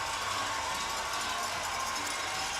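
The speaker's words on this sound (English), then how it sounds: "this Orange Army was electric also, and they're still cheering and standing on their feet" An Orange Army hockey crowd at an ECHL Kelly Cup Finals game between the Florida Everblades and Kansas City Mavericks keeps cheering after the final whistle, a dense, steady roar of voices filling the arena without a break.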